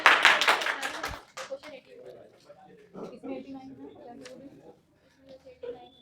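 A class in an offline exam-prep batch claps in a short burst of close, loud hand claps lasting about a second, followed by quieter scattered taps and murmuring voices.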